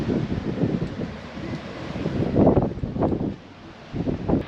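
Wind gusts buffet the microphone on a sailing trip near St. Lucia, in a low, rumbling roar that swells and eases, steady and close with no voices.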